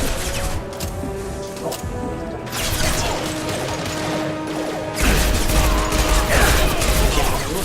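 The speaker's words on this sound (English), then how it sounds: "Firing a high-impact shot." Game gunfire from Mass Effect 2, a high-impact shot ringing out amid a busy combat mix of mechanical clatter and impacts, with a louder burst of shots and crashes in the second half.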